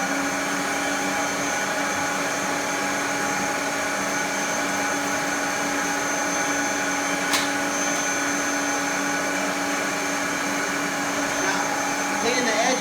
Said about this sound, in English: Now, you take this, you vacuum the hard floors.